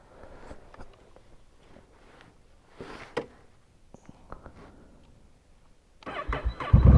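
A motorcycle engine starts up loudly near the end, a rough rising rumble after several seconds of quieter handling noises and faint knocks.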